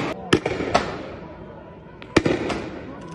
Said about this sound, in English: You can see what they're doing here, the Israelis. You know, firing tear gas and so on.